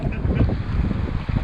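Gusty wind buffets a sailboat during a brief rainstorm off Florida near Miami, a steady loud roar of wind across the microphone with water and hull noise beneath, gusts swelling and easing throughout.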